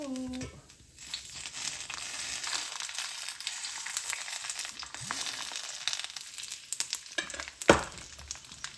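Cooking oil sizzles in a frying pan on the stove, a steady crackling hiss that carries on throughout with a few louder pops and scrapes, under brief talk.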